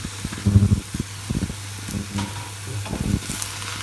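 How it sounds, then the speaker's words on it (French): Sliced aubergine rounds, about a kilo, hit a hot pan with a loud sizzle and spatter, alongside irregular stirring clatter and scraping; steady frying hiss continues through the short stretch with no talking. "Maintenant, je vais verser mes aubergines."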